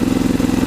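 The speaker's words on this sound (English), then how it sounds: "the idling on it is kind of high" A riding lawnmower engine idles high, a loud, close, steady pulsing drone with a quick regular beat and no voices.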